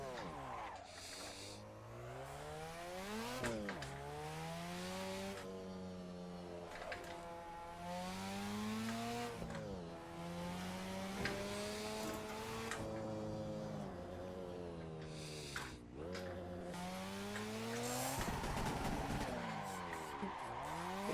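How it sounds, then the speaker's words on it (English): Simulated car drifting in Assetto Corsa, played on a direct-drive wheel racing rig: a continuous engine note rises and falls through gear changes and revving, with tire squeal and skidding layered in, loud and sustained throughout. "let's play it. Let's hop on, do some Assetto, some drifting"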